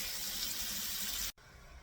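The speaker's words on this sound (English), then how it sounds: "So I'm going to rinse all these clean" Tap water runs steadily over shredded potatoes being rinsed for homemade hash browns, a close, even gush that cuts off abruptly near the end, leaving faint room noise.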